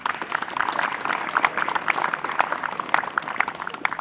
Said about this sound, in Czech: takže pane Heidingerovi do Budějovic taky velký potlesk